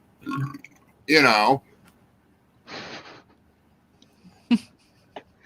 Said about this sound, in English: Belch,